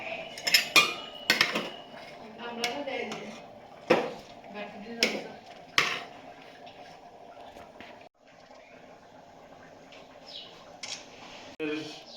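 Cooked food is lifted with a metal spoon into a strainer, giving sharp clinks and scrapes in short bursts over a steady low hum, followed by a quieter stretch of soft liquid sounds, with talk in between.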